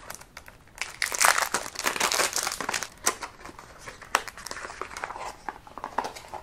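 Perfume packaging from a Sephora haul being unwrapped and opened up close, with continuous crinkling and rustling of paper and plastic, broken by sharper tearing bursts throughout; no talking.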